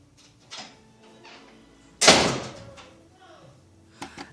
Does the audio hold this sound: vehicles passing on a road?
no